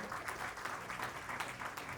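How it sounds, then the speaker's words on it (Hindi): An audience at a catering expo curtain-raiser event applauds steadily, a dense, fairly distant patter of clapping filling the short stretch. "जोरदार तालियों से special thanks to Nagpur caterers association."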